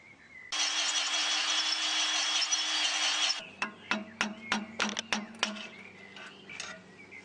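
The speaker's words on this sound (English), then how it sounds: "Okay, now I can quite comfortably drill out the broken stud and finish the repair." A power drill bores out a broken stud with a steady, loud whirring grind for about three seconds, followed by a run of sharp, evenly spaced mechanical clicks and knocks.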